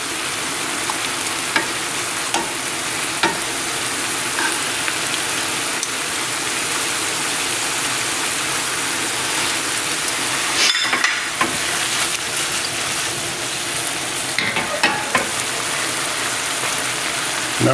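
Floured pork tenderloin frying in a pan for a ginger pork sauté gives a loud, dense, unbroken hiss, close up, with a few brief scrapes as the meat is turned, and no voices.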